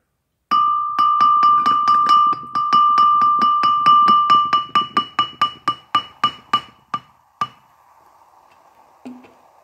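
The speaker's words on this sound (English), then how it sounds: "Listen to the sound change while I pour in the liquid." A glass is tapped rapidly in a steady ringing series while liquid is poured in, the tone holding at first, then the taps slow and fade, ending with a faint pouring trickle.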